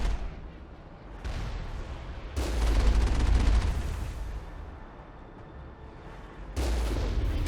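Heavy cannon and gunfire from the Mako armored vehicle in Mass Effect, shooting at an unprotected Geth turret on Noveria, with loud bursts that swell in the middle and return near the end over a rumbling low roar.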